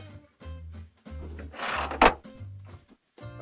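A UAZ Bukhanka 450 series van door opens with a short latch click and a brief metallic rattle, set among rhythmic tonal knocking pulses in a quiet, close-up interior.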